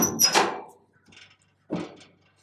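The tailgate of a 1970 Ford F250 swings shut with its bushings squeaking, a couple of short creaks and scrapes followed by a firmer clunk, close and fairly loud.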